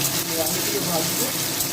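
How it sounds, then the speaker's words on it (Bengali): Potatoes fry in hot oil spiced with bay leaf and cumin, making a soft, continuous sizzle and crackle at close range. "আলুগুলো ভাজবো।"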